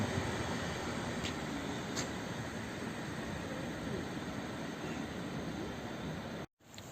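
A train pulls out of Warszawa Gdańska station in Warsaw, a steady broadband rumble and rolling noise holding close and loud throughout before cutting off abruptly near the end.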